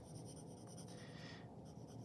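Soft scratchy strokes of a pencil shading dark shadows on paper, faint and close, repeating in quick back-and-forth rhythm.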